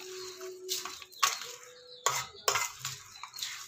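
Spoon stirring curd rice in a metal vessel, with a few scraping, clinking strokes and soft squishy mixing sounds at close range, no voices.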